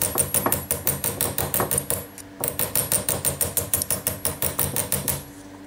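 Rapid, evenly spaced hammer blows on metal rivets shaping their heads, close and sharp, in two bursts separated by a brief pause, with no talking.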